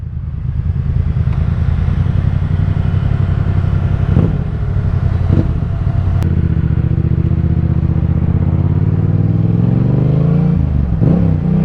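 A Yamaha MT-07 ridden on UK country roads, its engine droning loud and steady throughout with gear-change dips and a rising rev toward the end, wind rumble underneath.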